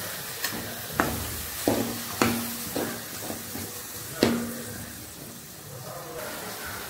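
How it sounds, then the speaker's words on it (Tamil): Spicy chicken gravy masala simmers and sizzles in a pan after water is added, a steady close hiss broken by several sharp clanks of a spoon stirring against the pan. "இப்போ கொஞ்சம் தண்ணி ஊற்றி நல்லா வேக வைக்கலாம்."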